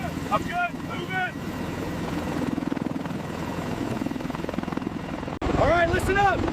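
CH-53 helicopters carrying U.S. Rangers and Marines on a rapid deployment, a steady loud rotor and engine roar running throughout, with voices talking over it near the start and again at the end.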